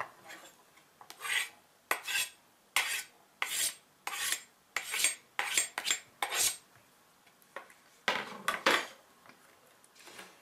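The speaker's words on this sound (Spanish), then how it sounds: "Tengo que mezclar muy bien hasta que toda el azúcar esté bien disuelta." A utensil stirring lemon zest and sugar into milk in a bowl for lemon ice cream, giving a series of close, irregular scraping clinks against the dish with short quiet gaps between strokes.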